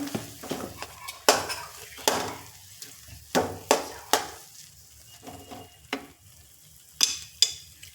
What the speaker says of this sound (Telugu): ఇప్పుడు మనం దీంట్లోకి జీడిపప్పు ముక్కలు యాడ్ చేద్దాం